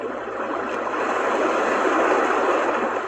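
A Magic Team white noise machine plays an ocean wave sound, a loud, steady rushing roar that swells slightly and never breaks, with no voices.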